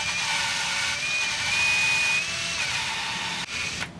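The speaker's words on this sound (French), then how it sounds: "je peux faire tourner ma soupape avec la perceuse et la durite" A power drill spins a Renault Espace engine valve against its seat with coarse lapping paste, giving a steady whine and gritty hiss that drops out briefly near the end.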